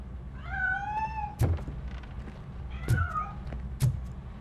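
A cat in RoboCop: Rogue City meows twice, the calls rising and falling and fairly close, each followed by a sharp thunk, over a quiet room tone.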